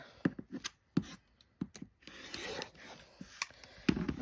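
Fabric quilt pieces for a broken sugar bowl quilt block are trimmed with a cutter along a ruler, giving short scraping rasps and taps followed by a longer rubbing cut, close and fairly quiet.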